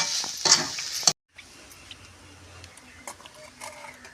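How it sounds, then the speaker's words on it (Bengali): Coconut mixture being stirred in a pan for coconut naru sweets with bay leaves and garam masala, a soft scraping and light sizzle running steadily after a brief louder burst, with a short silent gap. "এটা আমি আর একটু কিছুক্ষণ নাড়বো।"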